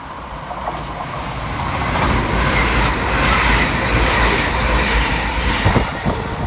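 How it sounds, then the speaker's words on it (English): A TransPennine Express class 802 train, 802-211, runs fast through Broad Green station in Liverpool without stopping, a rising rush of wheels and air noise that swells and holds, with rail clatter near the end. "Next flying through the station for TransPennine Express is 802-211"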